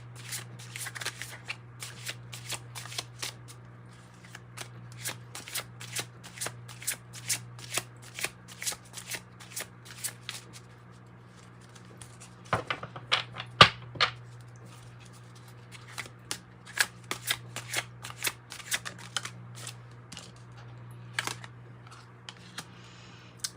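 Tarot cards being shuffled, a long run of crisp, rapid riffling flicks with brief pauses and a denser burst midway, close by over a steady low background hum, with no talking.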